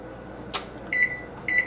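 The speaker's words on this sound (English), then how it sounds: "We're cooking this in the microwave." A kitchen microwave oven hums steadily, faint and close, with a sharp click partway through and brief high beeps near the end.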